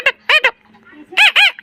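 A young man imitates a parrot with his voice: a rapid series of short, squawking, honk-like calls, three in a quick burst, a pause, then two more loud squawks, close and unaccompanied.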